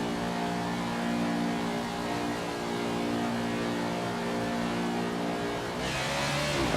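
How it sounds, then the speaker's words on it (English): Race car in NASCAR 21 pulling out of pit road at Michigan International, a steady loud engine drone with a rising rev sweep near the end as it accelerates. "we're out of pit road, so we're able to accelerate"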